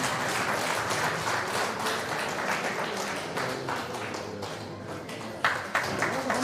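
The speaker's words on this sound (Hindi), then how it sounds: "प्लीज आइए, तालियां बजाते रहना चाहिए।" Steady audience applause at a Birsa Munda 150th birth anniversary celebration, dense clapping throughout at an even level with a brief louder burst near the end.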